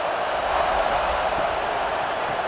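Stadium crowd roar in a college football video game with Florida State at North Carolina, a steady, dense wash of cheering noise holding level without breaks.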